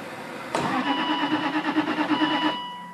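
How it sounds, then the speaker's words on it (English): A car engine cold-starting after a lay up: the starter cranks briefly, then the engine catches and runs at a rough, pulsing idle close to the microphone. "just press the starter"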